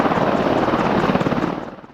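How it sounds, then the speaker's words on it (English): AH-64 Apache attack helicopter in flight, its rotor producing a loud, close, rapid chopping thump over a steady engine drone, sustained briefly before easing slightly at the end. "the AH-64 resulted from the U.S. Army Advanced Attack Helicopter Competition"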